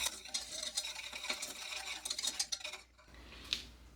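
Cocoa powder, salt and cornstarch whisked dry in a bowl: a close, quick scratchy swishing with rhythmic light taps, then a brief pause and a single clink.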